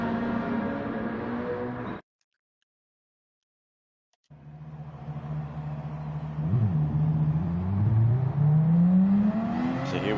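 A Group 3 Porsche 911 RSR race car in a racing game pulls out of the pit lane, engine whirring, then revving harder with rising pitch through the gears after a brief silent gap.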